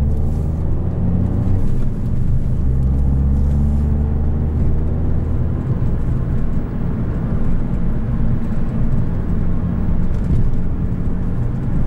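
A 2013 Fiat 500 Abarth's 160-horsepower turbocharged engine hums and rumbles steadily while driving, with continuous road noise and no talking.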